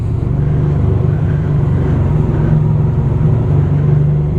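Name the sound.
Honda VFR1200F V4 motorcycle engine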